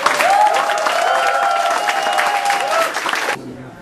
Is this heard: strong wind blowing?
no